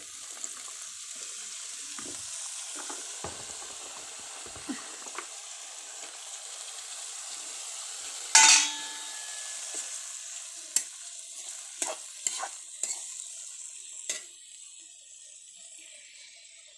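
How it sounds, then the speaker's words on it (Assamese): Greens hiss and sizzle softly in a pan, with one sharp burst of sizzle midway followed by a few scattered clicks and stirring taps. "শাকখিনি অলপ ভাজি লৈ তাৰপাছত মাছ দিম।"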